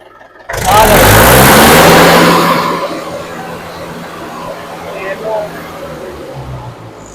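A 2006 Mahindra 575 DI tractor engine roars to life loudly, revving hard for a couple of seconds before settling into a steadier, lower running rumble.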